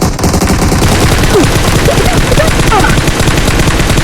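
Gunfire from the mobile game PUBG Mobile: loud, dense automatic bursts that rattle on without pause, with a few brief high tonal chirps mixed in.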